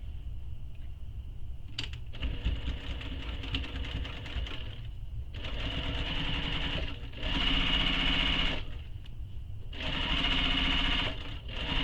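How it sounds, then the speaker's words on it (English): A sewing machine top-stitches around the edge of a small fabric messenger bag, running in several bursts with short pauses between, close and steady. "So you're going to be sewing along the edge, across the top, back down, and back across the bottom."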